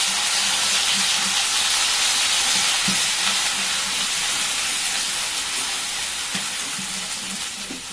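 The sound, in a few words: roasted ground onion paste sizzling in a pan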